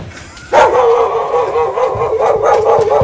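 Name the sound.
dog barking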